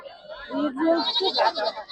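Goats bleat at a goat market in Moranpalli Banjara, Bhadradri Kothagudem district, Telangana. Several wavering, nasal cries overlap close by, mixed with people talking throughout.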